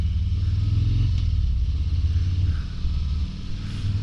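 A 2023 Harley-Davidson Fat Boy 114 cruising at normal speed, with a steady, rumbling low V-twin drone and faint clatter throughout, close and moderately loud.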